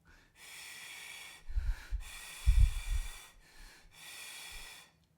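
Breathing in and out through a brass instrument mouthpiece with the lips held against it, giving close, airy, snorting rushes of air in about three separate breaths.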